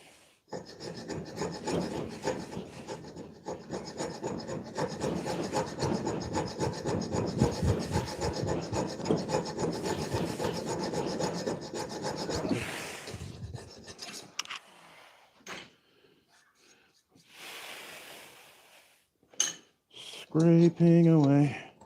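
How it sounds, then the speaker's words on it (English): Steady rasping strokes of a file and scraper working the steel of a handmade dagger, loud and continuous for about twelve seconds, then sparser scrapes and brief handling noises with a short spoken moment near the end. "Scraping away."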